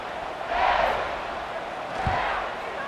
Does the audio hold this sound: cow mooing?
no